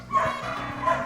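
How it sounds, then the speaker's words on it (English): A sheepdog working rheas on a Yorkshire farm gives two short barks about a second apart, fairly close and loud over a steady outdoor background. "including Fan the sheepdog, who it seems is Britain's first ever rhea dog."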